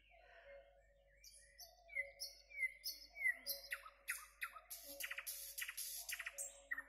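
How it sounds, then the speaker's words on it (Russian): Nightingale singing among trees and bushes at dusk on a late-May evening, clear varied whistles, trills and rapid chirping phrases, fairly close in a quiet setting. "В конце мая у нас всегда поют соловьи."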